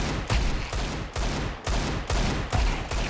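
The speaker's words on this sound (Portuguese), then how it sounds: "se você não atirar com calma na Desert Eagle, o tiro não pega" About seven sharp Desert Eagle pistol shots in CS2, fired at an even, deliberate pace, punchy and close, like gunfire in a video game.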